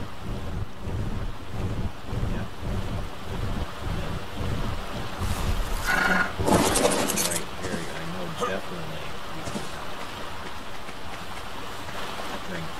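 Ocean waves and open water in the game Ark roll on as a steady, windy wash under a man's speech, with a louder surge of splashing partway through.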